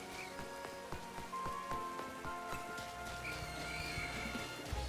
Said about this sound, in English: I haven't seen rain in this game yet until today.